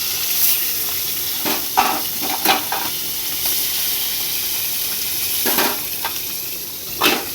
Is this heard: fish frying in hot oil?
yes